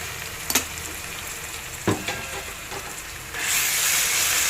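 Ginger garlic paste fries with onions in a pan, giving a low, steady sizzle. A few sharp scrapes of a stirring spoon are heard. Toward the end the hiss swells into a loud, bright crackle as the paste hits the hot oil.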